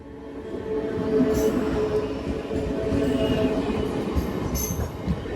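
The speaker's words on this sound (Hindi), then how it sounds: "नानबुटी पैसेंजर ट्रेन आ रहा देखे" A passenger train rumbles loudly and steadily past a railway crossing gate. Heavy wheels and carriages roll close by, with faint metallic squeals breaking through now and then.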